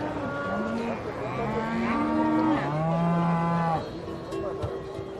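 Several cattle moo in long, overlapping calls at a livestock fair in Somiedo Natural Park, close and steady, with other moos following in the background.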